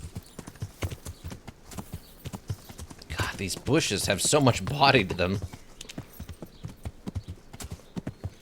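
A horse ridden in Kingdom Come: Deliverance clip-clops steadily throughout, its hooves falling in an even rhythm under a man's chatter.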